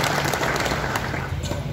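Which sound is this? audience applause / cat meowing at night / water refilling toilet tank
audience applause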